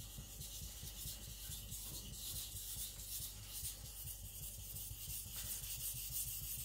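Steady rubbing rasp of a custom knife blade being sharpened on stones at a shallow angle, close and continuous with rhythmic strokes, no talk.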